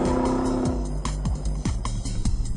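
A 2006 Ford GT and a 2009 Nissan GT-R race through cone transitions on a track, engines roaring hard with rhythmic gear changes and revving surges, tires working, close and loud throughout.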